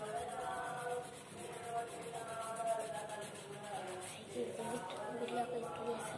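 A fingertip rubbing across paper to blend pencil shading on a portrait drawing: a soft, continuous close-up scuffing and rubbing under a person's voice.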